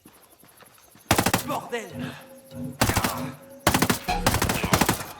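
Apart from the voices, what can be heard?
gun firing in video game Ghost Recon Breakpoint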